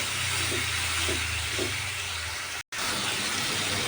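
Water poured into ground spice masala frying in hot oil for an egg curry sets off a loud, steady sizzling hiss close by, broken only by one brief silent dropout.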